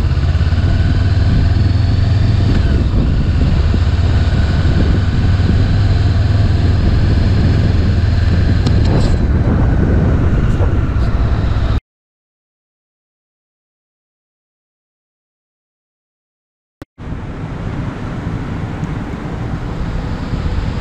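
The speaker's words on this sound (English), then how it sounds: "There is some wind. I'm not standing in a calm area." Outdoor wind buffets a GoPro microphone with loud, continuous low rumbling roar, cutting to near silence for several seconds before the roar resumes.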